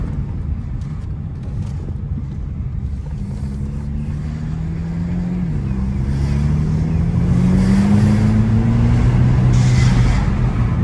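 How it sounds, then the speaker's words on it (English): A Hyundai Elantra N-line fitted with a cold air intake accelerates hard in a low gear, its engine note climbing steadily and loudly as boost builds, heard from inside the car. "so when you're boosting it in lower gear, it'll sound like that."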